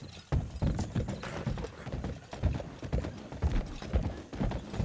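Horse hooves clip-clop steadily in Red Dead Redemption 2, a loud, even rhythm of close hoofbeats continuing throughout with faint background game noise.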